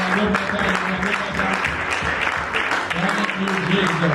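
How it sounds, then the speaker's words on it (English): A church congregation claps steadily for several seconds, dense hand claps filling the room, with voices and music-like tones underneath. "Give Jesus a big clap"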